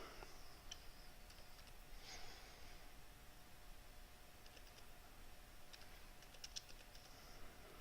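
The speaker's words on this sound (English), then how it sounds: "I'm going to type in my name." Keys tapped on a computer keyboard while a name and date are entered, quiet scattered clicks over a steady background hiss, with no talking.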